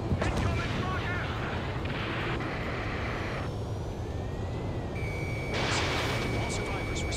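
Rocket explosions during combat in the video game Ace Combat 7 make a heavy, continuous rumbling roar, with blasts and aircraft noise layered over a deep, dense background.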